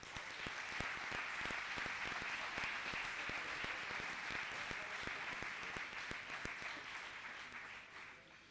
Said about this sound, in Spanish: reclamo para ellos dos un fuerte aplauso